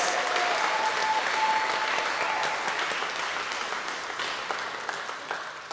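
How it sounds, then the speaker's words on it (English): Audience applause at a live forum for 2024 congressional candidates, a dense burst of clapping from an indoor crowd that holds steady and then slowly fades toward the end. "can we please take a moment to give a great big round of applause for our 2024 congressional candidates"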